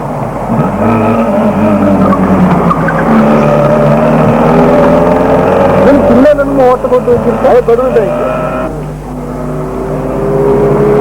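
Vintage rally cars, Premier Padminis, Dolphins and a Hindustan Ambassador, racing in the 1984 K1000 rally, engines loud and close, revving and rising in pitch as they accelerate and pass, with a commentator talking over them.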